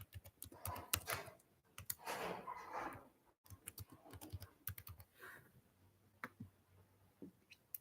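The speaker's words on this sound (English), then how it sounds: "Now to proceed, I'm going to type Cynthia Coffee" Text is typed on a computer keyboard while working in Figma, with bursts of quick soft key clicks in irregular runs and short pauses between them, heard up close and fairly quiet.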